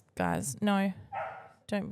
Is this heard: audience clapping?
no